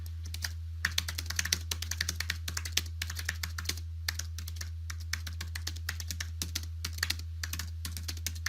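Rapid clicking and clacking on a computer keyboard, sharp irregular keystrokes in quick bursts over a steady low electrical hum, close to the microphone and fairly quiet, with no voices.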